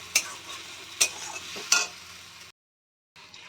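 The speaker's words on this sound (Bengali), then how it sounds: "আমি পেঁয়াজটাকে বেশ" Sliced onions salted and frying in a pan, a steady sizzle broken by three sharp clinks of a spoon stirring against the metal, then a short pause before the sizzle returns.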